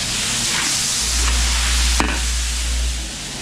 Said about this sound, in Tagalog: Gisa natin siya sa patis.